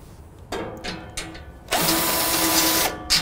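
Power screwdriver or drill backing out Torx fasteners from the back panel of a Rittal TS-8 modular equipment cabinet, with short whirring bursts followed by a longer steady run of the tool, close and fairly loud.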